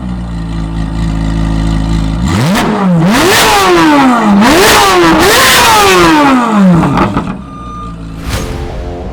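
A Corvette engine with stock straight-through mufflers revs loudly and up close, sweeping up and down in pitch three or four times in quick succession before dropping back to idle.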